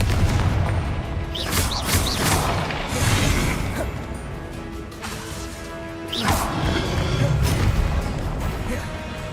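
Confringo explosive spell blasts in a video game, several sharp booming impacts with crackling debris, the biggest near the start and another about six seconds in, set against a busy, noisy background.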